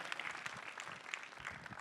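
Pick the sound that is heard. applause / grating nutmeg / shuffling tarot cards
applause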